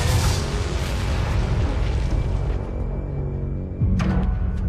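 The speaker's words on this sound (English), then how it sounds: "The impact of the explosion was incredible." A car bomb from a bag left on a car's passenger seat goes off as a loud, close blast with deep rumbling, then a sharp secondary crack as the noise fades.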